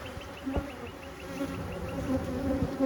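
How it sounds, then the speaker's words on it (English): Honeybees in a queenless hive during a hive inspection, a dense continuous buzzing drone that holds steady and swells slightly toward the end, close by with no talking. "But they certainly sound like a queenless hive."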